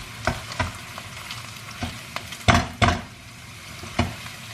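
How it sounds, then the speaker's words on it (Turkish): Ground meat and spinach sauté in a pan, a steady sizzle broken by several sharp scraping stirs with a utensil, close and fairly loud with no talking. "Şimdi bunu 1-2 dakika kavuracağım."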